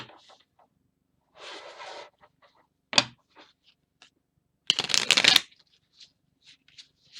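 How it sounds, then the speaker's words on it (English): Oracle cards being riffled and shuffled in a few short bursts, close up, with quiet pauses and small handling clicks between them. "I'm going to shuffle them a little bit more and then I'm going to take a card."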